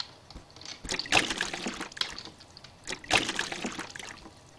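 Water being emptied from wells in the survival game Reign of Kings, two bursts of splashing pouring about two seconds apart, loud and close with no talk over them.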